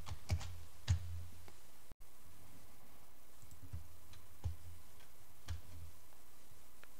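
Keys clatter on a computer keyboard while a ping command is typed, sparse individual clicks spaced irregularly across a quiet room background.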